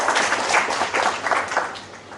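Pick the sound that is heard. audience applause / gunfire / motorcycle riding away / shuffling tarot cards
audience applause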